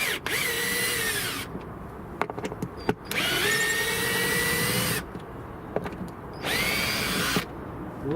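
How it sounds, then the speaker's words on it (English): Close, loud bursts of a handheld power drill unscrewing bolts to take down a flagpole's flag, three long whirring runs of roughly a second and a half each, separated by quieter gaps with clicks and handling knocks. "I'm just going to get me drill to unbolt it all"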